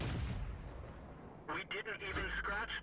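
Tank cannon shot in World of Tanks, a sharp loud blast ringing out into a fading rumble, followed by a few quick mechanical clanks as the gun reloads.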